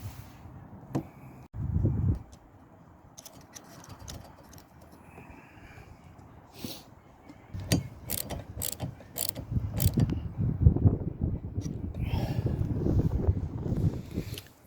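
Mechanical clicks and ratcheting while a rear wiper fitting is tightened on a Rover 45 hatchback, with scattered close taps and a busier, louder stretch of handling noise in the second half.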